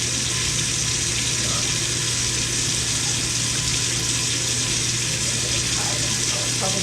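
Water rushes steadily into a plugged toilet's bowl as it refills, a constant close-up gushing hiss with a low hum underneath that holds at an even level throughout.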